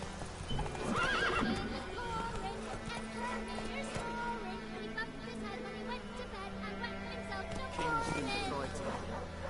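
Geralt's horse Roach in the video game The Witcher 3, with rhythmic galloping hooves and a clear whinny near the start, under a player talking.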